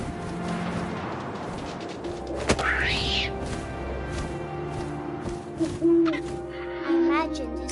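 An owl hoots in the game What Remains of Edith Finch, a few clear calls over wind and layered ambient game music, with a narrator speaking across parts of the scene.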